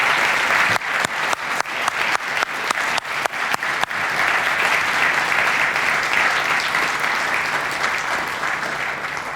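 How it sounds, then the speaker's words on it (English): Loud applause from a political debate audience, with sharp individual claps standing out early, then settling into a steady, sustained ovation that fades slightly toward the end. "give a tremendous round of applause to these candidates"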